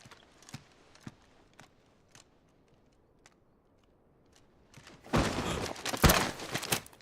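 Horse hooves clop at a slow walk in the video game Final Fantasy XVI, sparse faint steps spread across the quiet scene, followed by a louder burst of clattering movement near the end.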